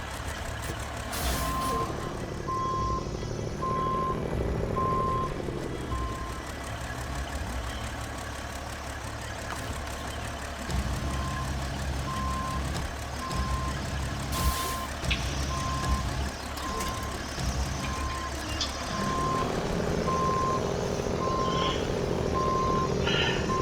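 A truck backs up in a mining video game, with a steady reversing beeper repeating throughout under a continuous engine rumble, an air-brake hiss, and low drones that swell and fade.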